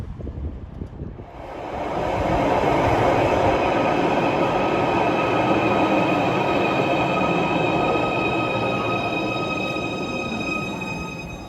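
A new Merseyrail train, one of the 777 units, passes on the network around Liverpool city centre, building within two seconds to a loud, steady roar of wheels and traction with high squealing tones, holding close and dying only slightly at the end.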